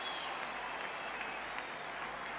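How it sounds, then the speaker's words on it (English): A rugby league stadium crowd of Leeds supporters in 1998 applauds a player, a steady distant wash of clapping that holds at an even level throughout. "Taking the applause of the Leeds support"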